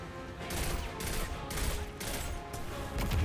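Sustained rapid gunfire rattles in continuous bursts as shots hit a shield in the video game Destiny 2, dense and fairly loud with brief dips between volleys and no voices over it.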